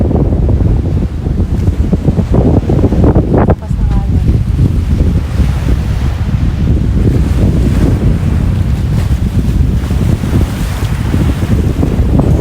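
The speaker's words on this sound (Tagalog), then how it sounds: "Sarap ng hangin." Strong wind buffets the microphone in a continuous low roar on a hilltop at Hotel Meisanzo in Japan, with a voice speaking briefly underneath.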